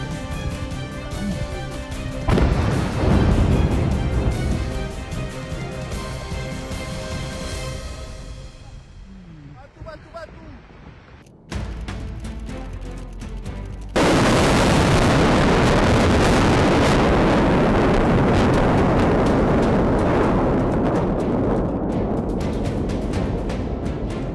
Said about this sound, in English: a jet truck turning the runway into a firestorm